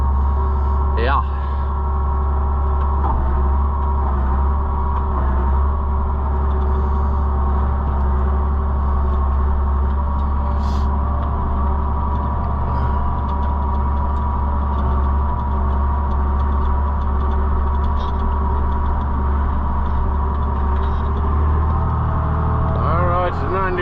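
A John Deere 9650 combine harvester engine runs loud and steady close by as the machine drives along, a continuous low drone with a brief voice early on.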